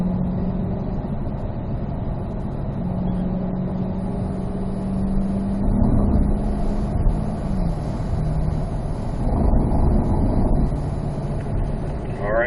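A C8 Corvette carries its speed downhill on a race track, its engine a steady, fairly loud drone with a faint whine over it, with no clear gear changes.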